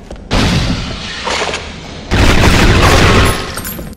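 Gunfire in the PS2 game James Bond 007 Agent Under Fire: two loud sustained bursts of booming shots and rattling fire, the first running about two seconds, then a brief lull, then a second heavy volley, close and dominant with no talk.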